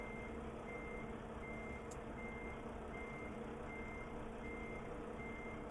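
A truck's reversing alarm beeps in a steady, evenly spaced rhythm at a loading dock in American Truck Simulator, heard over a constant low engine drone with no talking.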